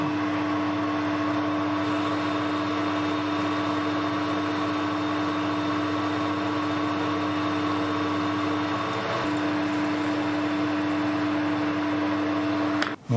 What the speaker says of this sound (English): I don't think I've ever done parting off with the power feed.